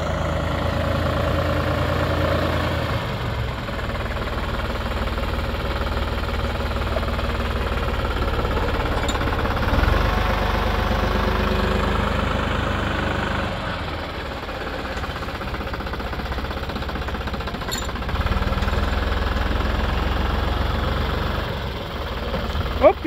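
A New Holland TT55B tractor engine runs steadily and loudly for the whole stretch, a low, throbbing idle-to-working drone with slight rises and dips, while chopping autumn silage.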